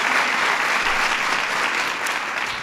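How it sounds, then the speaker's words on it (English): A crowd at an International Women's Day event applauds the emcee, Kerry Washington, with loud, continuous clapping from many people across a brief burst. "Give Kerry a big round of applause"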